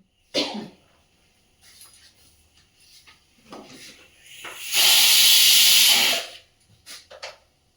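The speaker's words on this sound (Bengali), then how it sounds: "কুকারে আলুগুলো তো সেদ্ধ করে নিলাম" A pressure cooker boiling potatoes lets off one loud, steady burst of steam hiss lasting over a second, close up, with a few faint kitchen clatters and breathy noises before and after.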